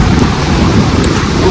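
Heavy rain beats down during a thunderstorm while a KamAZ truck drives a badly broken road, a loud, dense, continuous roar with no pauses.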